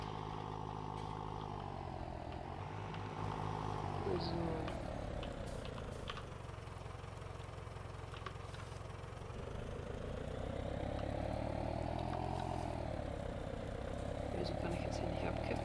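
A tractor engine in Farming Simulator 19 drones steadily at moderate volume, its pitch rising and falling with throttle, running continuously under a man's speech.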